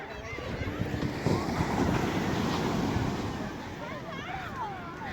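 Rough sea waves surge high up the shore in a steady, loud broadband wash with wind buffeting the microphone, while people talk over the roar.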